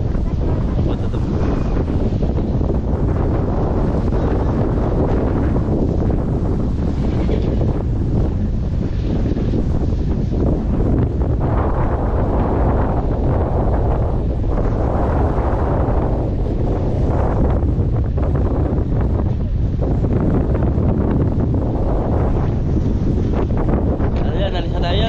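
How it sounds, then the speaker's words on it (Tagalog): Typhoon Uwan's strong wind blasting across the microphone near a farm, a constant loud roaring rush with surging gusts and surf underneath, while a person talks through it. "So lumalakas pa rin yung hangin dito sa ano."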